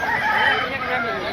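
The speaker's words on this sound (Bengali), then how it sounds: "তো গাইস আরেকটা মুরগি দেখতে পাচ্ছ" Chickens at a busy poultry and duck market, clucking and squawking close up amid crowd noise, with people talking in the background.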